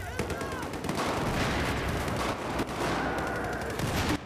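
Rapid bursts of airburst weapon gunfire in the Battlefield 4 video game, loud crackling shots and explosions packed densely together over game ambience.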